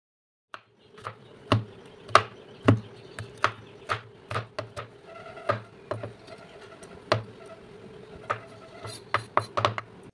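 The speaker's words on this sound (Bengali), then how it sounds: "ক্যাপসিকামটাকেও এইভাবে আমি চৌকো চৌকো ছোট্ট ছোট্ট করে কুচি করে নেব" A knife chops capsicum into small squares on a board, making a close series of sharp, evenly spaced knocks that grow quicker toward the end, heard alone.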